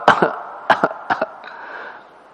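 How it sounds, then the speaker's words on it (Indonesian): A mosque congregation coughing, several short harsh coughs in quick bursts from a few people close by, followed by a fading throat-clearing rasp, with no talking. "Jamaah batuk-batuk."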